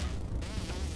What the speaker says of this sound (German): Ja, eine Stechmücke.